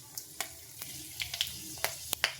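Dried chilli, fennel and fenugreek seeds crackling in hot oil for tomato-tamarind chutney, with sharp scattered pops and spits over a faint low hiss, fairly close.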